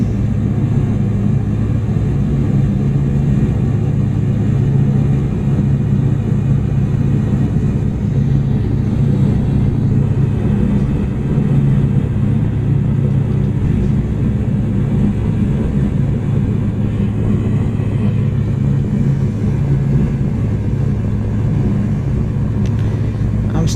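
Bomber aircraft engine in the IL-2 Cliffs of Dover flight game, a steady, loud, low droning rumble that holds without a break throughout, heard from inside the plane.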